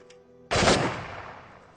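A single loud gunshot with a sharp crack and a fading tail goes off after a brief quiet moment during a military firing command sequence, with no voices heard.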